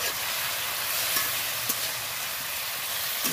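Vegetables seasoned with salt and turmeric fry in a pan with a dense, continuous sizzle, with faint scraping stirs at intervals.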